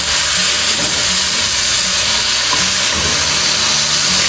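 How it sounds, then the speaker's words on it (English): Three pounds of cubed London broil beef searing in a pot, giving a loud, steady steam-like hiss and sizzle that runs unbroken throughout. "I added 3 pounds of cubed London broil, and I'm just going to go ahead and get a sear on this."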